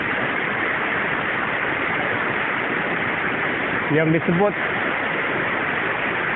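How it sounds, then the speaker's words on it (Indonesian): Steady broadband roar of the Batu Basurek waterfall, loud and continuous throughout, with a brief voice speaking over it midway. "air terjun Batu Basure"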